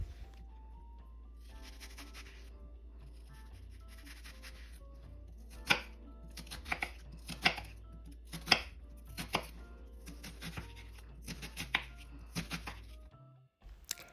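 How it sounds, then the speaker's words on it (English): Knife chopping through an onion on a cutting board, quiet scattered taps at first, then a run of crisp, regular cuts, with a faint background hum and no talking. "Let's start by peeling and dicing the onion."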